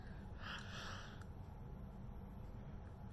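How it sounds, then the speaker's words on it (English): A single tired yawn of a person, heard close and faint, with a drawn-out breathy rise lasting about a second, then quiet room tone. "I did not mean to yawn"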